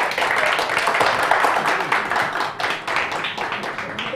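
An audience claps to welcome the president of the Küçükçekmece Tokat Bereketli Spor club, in steady, moderately loud applause with a short dip midway before picking up again.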